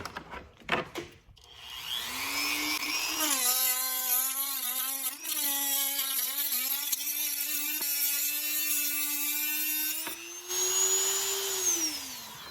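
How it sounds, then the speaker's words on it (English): A Dremel rotary tool fitted with a cutting blade slices into a Brita water filter cartridge: a loud, close, sustained high whine that starts, dips and shifts pitch as the blade bites, then winds down at the end. "I'm going to use my trusted Dremel tool with a cutting blade on it"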